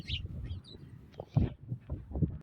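Sparrows chirp in short bright bursts beside poultry pecking at feed, with soft low clucking and scratching sounds close by and no talking.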